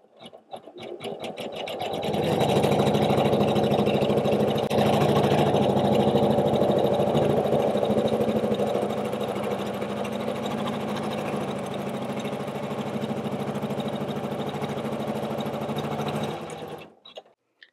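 A Janome 500E embroidery machine stitches steadily for about fifteen seconds, a loud, even mechanical whir with a rapid needle rhythm. It starts up, runs without a break and then stops, with no talking.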